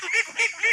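Ducks on a small farm pond give two or three quick nasal honking calls, close and fairly loud.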